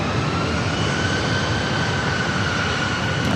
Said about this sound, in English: It's flight heading to Kansas City, flight 3999, a 737 MAX 8.